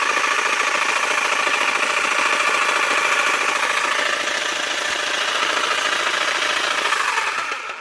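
Makita 4329 jigsaw with a slow-cutting fault running under test, a loud continuous buzzing rattle at steady speed that winds down at the end.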